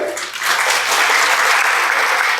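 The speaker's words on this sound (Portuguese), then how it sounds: "eu queria uma salva de palmas para a Camila" An audience at a waste-management innovation conference claps steadily for the speakers being called up, a full, close burst of applause that swells quickly and holds evenly.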